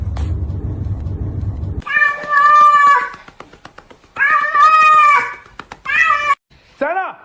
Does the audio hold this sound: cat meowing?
yes